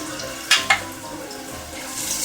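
Ginger sizzling as it is sautéed in a pan for chicken arroz caldo, a steady close frying hiss broken by two quick clacks of a spoon stirring.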